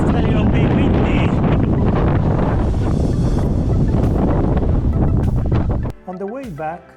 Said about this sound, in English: Just a little bit windy.